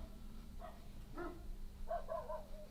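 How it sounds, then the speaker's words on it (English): A dog barks a few times in the background, short faint yips and woofs spaced unevenly over a low steady hum indoors. "My dog's having a nice bark."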